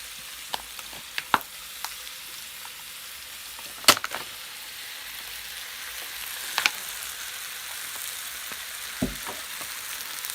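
Ackee frying in a pan for ackee and saltfish gives a steady, close sizzle with scattered sharp pops and crackles throughout.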